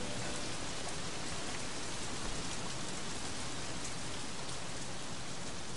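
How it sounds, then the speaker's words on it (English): Steady rain falls in the open-world game Sleeping Dogs, a dense, even hiss of drops on surfaces that holds constant and fairly loud for the whole stretch, with no voices. "Why are still hearing rain falling though?"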